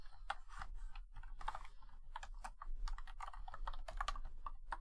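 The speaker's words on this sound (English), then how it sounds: "I can type it" Rapid, uneven clatter of keys on a computer keyboard, close and steady for the whole stretch, with bursts of quick strokes and brief pauses and no talking over it.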